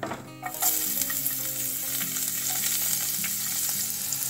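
Chopped onion frying in hot oil with cumin and mustard seeds for sevai upma, a steady close sizzle with faint stirring, no voices.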